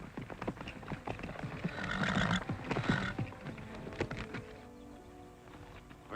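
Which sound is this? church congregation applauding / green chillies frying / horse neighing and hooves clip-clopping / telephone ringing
horse neighing and hooves clip-clopping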